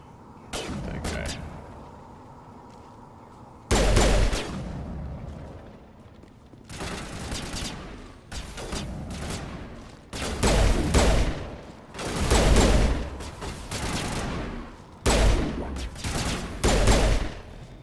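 Gunfire from the game Mass Effect rings out in repeated loud bursts of sharp shots and booming blasts, separated by brief quieter gaps, all up close.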